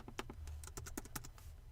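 Close, crisp keystrokes on a computer keyboard rattle out in a quick irregular burst of distinct clicks, with no voices over them.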